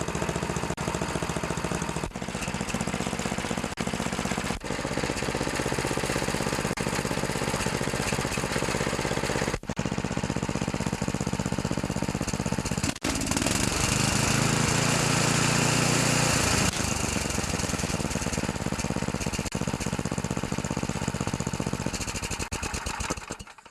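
A snowblower engine roars continuously at high speed for the whole stretch, loud and close, with a steady droning buzz and slight shifts in tone partway through.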